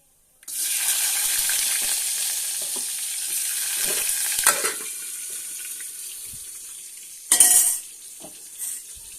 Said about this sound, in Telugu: చూడండి తాలింపు వేగుతుంది కదా